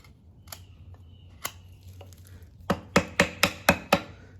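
WC Knives Field Boss blade chopping a notch into a wooden stick, a few scattered knocks, then a quick run of six sharp, evenly spaced chops, close and crisp.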